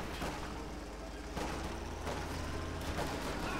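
Gunfire and cannon fire in the real-time strategy game Company of Heroes 2, including a Kampfwagen cannon on a Lux tank. Repeated bursts and thuds come over a steady rumble of battle, at moderate loudness.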